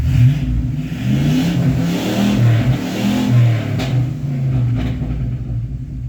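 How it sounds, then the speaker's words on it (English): A 1985 K20 truck engine revs through an open exhaust with a faulty throttle spring, rising and falling in loud, rough bursts of throttle, close and unmuffled, with no voices. "it's an open exhaust, and there's that throttle spring acting up"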